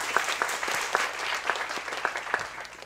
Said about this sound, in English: Please give him a round of applause.